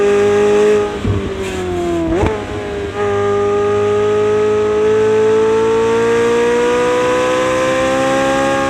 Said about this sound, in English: I mean, the turbo whistle and the exhaust.